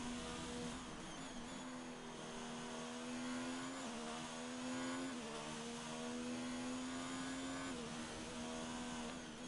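Several Formula 1 race cars from an Italian Grand Prix sim race idle and cruise on their out lap, a steady droning engine tone with gentle rises and dips in pitch, continuous and fairly loud throughout, with no voices.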